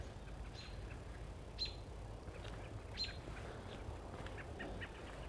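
Several high, chirping robin calls ring out at intervals over a steady, rumbling outdoor background, fairly faint and distant.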